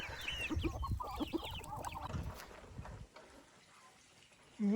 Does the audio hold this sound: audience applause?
no